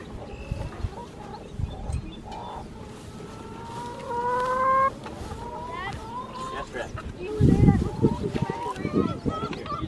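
Chickens cluck and squawk in a busy chorus in tall grass, some calls drawn out, with people talking nearby and a louder rustle toward the end.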